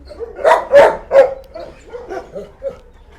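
Dogs in kennel pens at an animal shelter bark in a quick cluster of loud, close yaps, then trail off into softer barks and whimpers.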